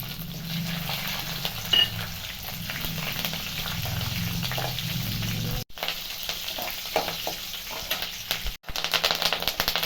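Mustard seeds, four green chillies and two dried red chillies crackling in hot oil with browned chana and urad dal for lemon rice, a loud, continuous close sizzle with sputtering pops, briefly cut twice.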